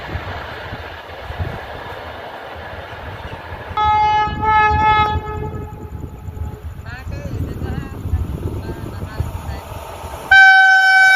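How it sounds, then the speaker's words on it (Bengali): An express train passes through Mirzapur Bankipur railway station, a loud continuous rumble of rolling wagons with long, sustained horn blasts sounding near the middle and again at the end; a voice is heard over it. "বর্তমানে ট্রেনটি Mirzapur Bankipur railway station cross করছে।"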